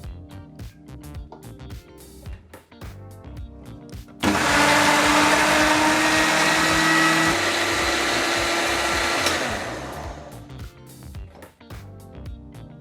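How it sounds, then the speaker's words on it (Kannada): A mixer grinder whirs loudly in a mixie jar, blending oil, milk and other ingredients in one sustained run of about five seconds that stops abruptly, set between quieter kitchen sounds. "ಈಗ ನಾವು ಮೊದಲಿಗೆ 2 ನಿಮಿಷಗಳ ಕಾಲ ನೀಟಾಗಿ ಇದನ್ನೆಲ್ಲ ನುಣ್ಣಿಗೆ ಮಿಕ್ಸಿ ಮಾಡ್ಕೊಳ್ತೀವಿ"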